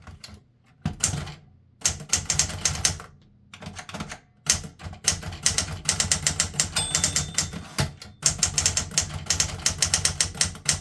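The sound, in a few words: typing on a 1960s Smith Corona Galaxie II typewriter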